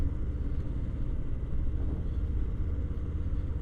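Harley-Davidson Low Rider S motorcycle rolling along with the throttle released, its engine giving a low, steady, close rumble under rushing wind noise, with no talking.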